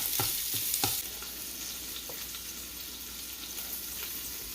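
Italian sausage sizzling and frying in a pan, a steady crackling hiss with a few sharp stirring scrapes near the start, close and moderately quiet.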